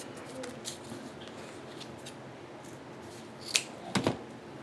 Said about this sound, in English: So I'm going to cut it several times, and I'm just matching up the ends and then cutting